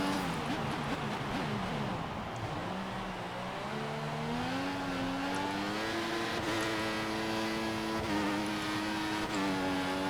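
F1 car engine in the racing game F1 2014, a continuous high-pitched whine rising and shifting through gears, loud and steady throughout with no pauses.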